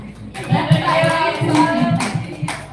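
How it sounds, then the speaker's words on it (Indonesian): A small group in a classroom setting claps in a short burst of rhythmic, fairly close hand claps, with talk mixed in. "tepuk tangan Jamila."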